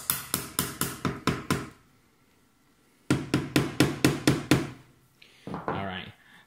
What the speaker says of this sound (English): you're going to have to give it a nice little tap with the hammer